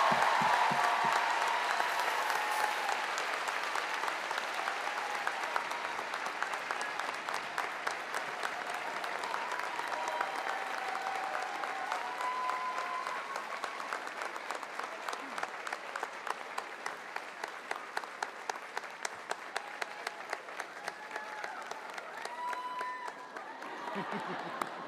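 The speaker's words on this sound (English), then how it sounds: "Ladies and gentlemen, please join me in a round of applause for Chancellor Extraordinaire Sally Horsfall" A large audience at a college convocation ceremony applauds steadily, a dense, sustained wash of many hands clapping in a big hall that continues for nearly half a minute, with a few voices audible early on.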